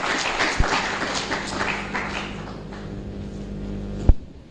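Audience applause at a 2023 UN/African Union Public Service Day celebration in a full hall, a steady wash of many hands clapping that thins out over a few seconds, with a sharp knock near the end.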